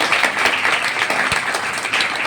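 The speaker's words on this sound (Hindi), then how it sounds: "तो खुदावंद प्रभु यीशु मसीह के लिए हम एक बार ताली बजाएंगे" A church congregation applauds for Jesus during a Hindi-language worship service, a dense, steady wash of many hands clapping together throughout, close and fairly loud.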